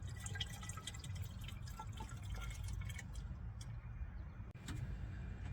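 Coolant pours into the radiator reservoir of a 2004 Dodge Ram 1500 with a 3.7 engine, a continuous close liquid gurgle and trickle with a low rumbling undertone and a brief dip near the end.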